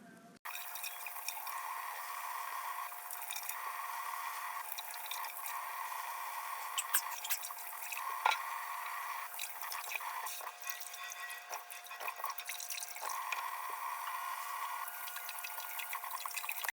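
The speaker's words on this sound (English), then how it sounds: "So what you're going to do first is start washing your vegetables and fruits." Tap water runs steadily while tomatoes, avocados, onion and lime are washed at a kitchen sink for guacamole. The flow is continuous and close, starting after a brief quiet moment, with faint drips and splashes and no talking.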